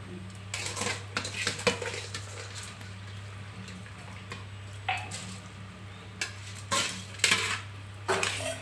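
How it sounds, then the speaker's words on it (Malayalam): Soaked ration rice tipped into a pot of boiling kabsa brings clattering pot and utensil knocks in scattered bursts over a steady low hum, with a faint wet scrape. "ഇനി നമുക്കിതിലോട്ട് കുതിർത്ത് വെച്ച അരിയൊക്കെ ഇട്ട് കൊടുക്കാം"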